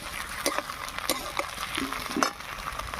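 Sauce for chicken manchurian stir-fries in a pan over low heat, a constant sizzling hiss broken by scattered spatula scrapes and clicks.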